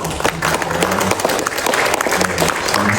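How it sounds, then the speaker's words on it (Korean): A church congregation at a prayer breakfast gives applause in praise of God, loud dense clapping filling the whole stretch, with some voices mixed in underneath. "하나님께 영광의 박수 한번 올려드리면 좋을 것"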